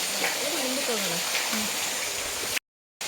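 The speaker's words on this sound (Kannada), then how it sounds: "ನೀರು ಸೌಂಡ್ ಇದೆ" Steady rushing water at the Brahmi river's source at Kamandala Ganapati temple fills the scene, loud and continuous, with a person speaking briefly over it before a short cut to silence.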